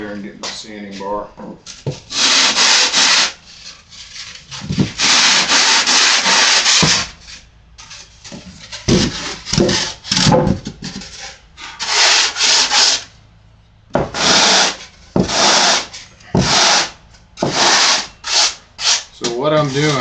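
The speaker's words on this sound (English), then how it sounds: "I had to go over there and get my sanding bar." A sanding bar rubs back and forth across a foam wing blank in loud, raspy strokes, irregular bursts of varying length with short pauses between them, close up.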